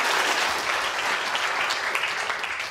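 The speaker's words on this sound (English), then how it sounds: "Big round of applause for Professor Claire Smith" A live audience at a food science event claps for a presenter after a demonstration, a full, steady round of applause, close and continuous from start to finish.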